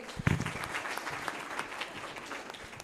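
Audience applause for a student presentation at an international school conference, a dense, steady patter of many hands clapping at moderate volume from start to finish with no voices over it.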